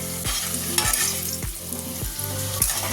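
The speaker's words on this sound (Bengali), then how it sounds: "এই যে লাল লাল করে ভাজা হয়ে গেছে আলুগুলো" Potatoes frying in a kadai for a home-cooked Bengali meal, with a steady close sizzle and several rhythmic stirring scrapes recurring about every half second to second.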